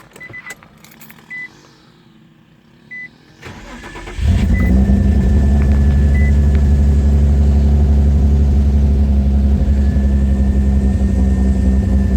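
An Infiniti G35 after a spark plug change, first keys jangling and ignition chimes, then the engine cranks and starts and settles into a loud steady idle that runs to the end.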